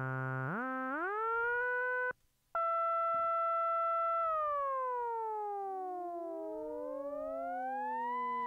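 A Roland System-8 synthesizer tone glides upward, holds steady, cuts off briefly, then returns and slowly bends down under a pitch envelope while a second layer sweeps upward, sustained and moderately loud.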